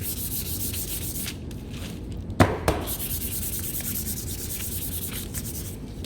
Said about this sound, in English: I'm going to take my sandpaper and give them a sand so they're nice and smooth.